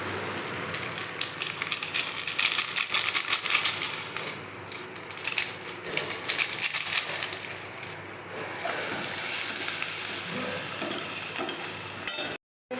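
Spices and green chilli being stirred and fried in a pan for a vegetarian butter tadka, giving a steady close sizzle with scraping stir strokes throughout, briefly cutting off near the end.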